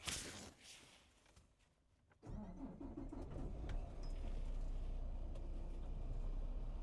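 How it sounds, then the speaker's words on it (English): A semi truck's diesel engine cranks and catches after a quiet stretch, then settles into a steady, loud, low idle rumble that continues to the end. "I'm going to start my truck back up to build my air back up in my air system."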